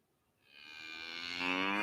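A cow moos in one long, rising call that starts after a brief silence and swells steadily louder to the end, close and clear with no talking.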